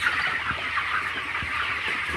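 Broiler chickens in a poultry shed give soft, scattered clucks over a constant low murmur of the flock, steady and unhurried.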